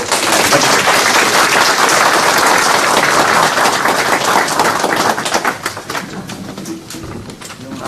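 Loud, dense applause from a press conference audience, steady for about five seconds and then thinning into scattered claps.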